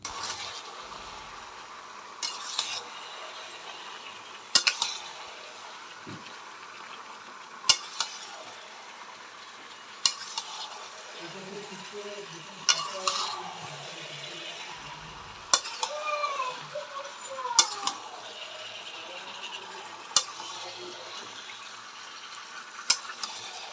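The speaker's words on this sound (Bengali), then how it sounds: "চলো চটপট করে চিকেনটা মাখিয়ে কড়াতে রেডি করে ফেলি" Marinated chicken cooks in a wok (kadai) with a soft sizzle as a spatula stirs it, sharp metal clanks and scrapes landing every few seconds against the pan; nobody speaks.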